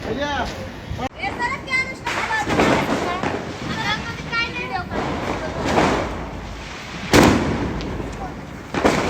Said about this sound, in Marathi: तिथे फटाके वाजवायला मस्त फटाके आता